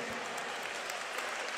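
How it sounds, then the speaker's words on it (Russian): Audience applause at a Latin dance competition semifinal, a dense, steady wash of clapping that stays even and fairly quiet throughout. "Мало аплодисментов для этой группы, безусловно."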